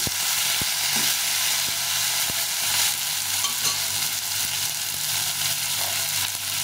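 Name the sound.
tomato frying in a pan with fried onions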